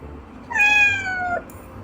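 A single clear cat meow, drawn out and rising then falling, used as a sound effect in a children's picture-book story about a boat outing, heard alone against a quiet background.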